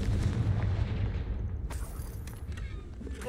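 A Confringo spell explosion in the video game Hogwarts Legacy: a loud, rumbling blast with a booming low end that carries through the whole stretch, a sharp crackling burst partway in, and a continuing roar.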